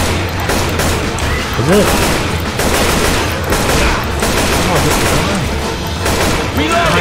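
In Left 4 Dead 2, AK rifle fire comes in rapid bursts of sharp, loud cracks that repeat through the stretch amid chaotic game noise, while a player speaks briefly over the shooting.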